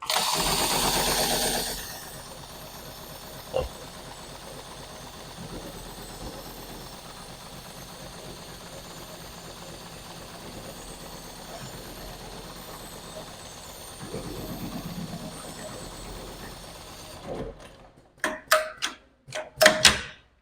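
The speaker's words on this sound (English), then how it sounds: "All I have to do is push on the start pedal and it'll take off sewing." A 7273PLK extra heavy duty CNC pattern sewing machine runs with a steady, close mechanical whir after a brief louder burst at the start, then ends in a few sharp clunks and thumps.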